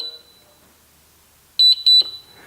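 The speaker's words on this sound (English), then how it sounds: "You'll hold down that button for about 5 seconds. You hear the beep." The fingerprint scanner of a slider gun safe gives two short, sharp electronic beeps in quick succession, clear and close after a quiet stretch with a faint tone.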